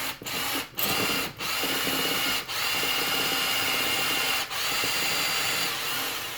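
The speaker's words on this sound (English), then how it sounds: "when you're drilling pins like this and you're going really deep" A power drill whirs steadily up close, briefly stopping and restarting a few times as it bores deep pin holes into resin.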